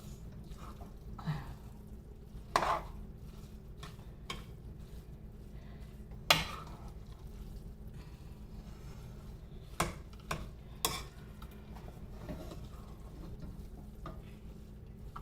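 Prawn rice (kolambi bhat) being stirred in a pot, with soft scraping and occasional sharp clinks of the spoon against the metal rim over a steady background hiss.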